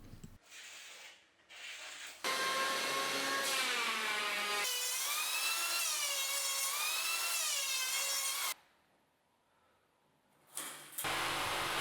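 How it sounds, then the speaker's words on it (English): An electric planer machines a tilted wooden part for a kitchen cabinet, a loud sustained whining drone with shifting pitch that runs for several seconds, cuts out briefly, then starts up again. "Now I'll mark the tilted part and machine it with a planer."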